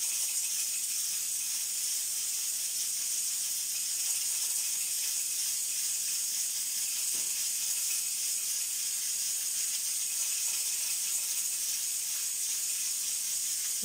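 Pressure cooker holding beef and carrots vents steam in a steady, loud, high hiss that runs unbroken throughout, with no talk.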